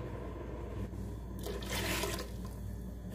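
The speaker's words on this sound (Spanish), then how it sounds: "Le voy a poner un poquito más de agua." Water splashes into a pan of simmering sauce in a short, rushing pour lasting about a second, rising and falling over a steady kitchen background hum.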